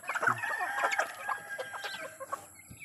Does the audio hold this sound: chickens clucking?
yes